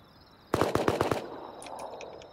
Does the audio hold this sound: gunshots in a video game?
yes